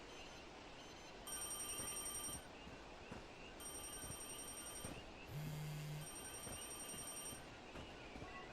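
A telephone rings in a video game demo, sounding as repeated trilling bell bursts roughly a second long with short gaps between them, faint and alone over a low ambient hum.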